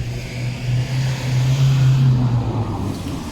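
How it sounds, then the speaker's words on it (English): A noisy truck drones in a city street in Gdansk, a steady low engine hum with broadband traffic noise, fairly close and loud throughout. "very noisy truck behind me"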